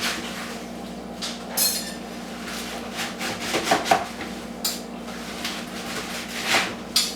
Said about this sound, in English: then you just run the knife through it in the big bowl